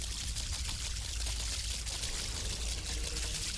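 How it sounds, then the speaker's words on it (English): Footsteps splash through water in the PC role-playing game Sacred 2, a steady, continuous watery sloshing and pouring noise with soft, fairly even texture throughout. "Can you hear the water splashing?"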